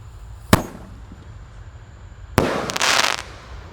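A Roman candle-style firework lights with a sharp pop, then after a pause launches with a loud, crackling burst of hissing sparks lasting about a second, close by with no voices.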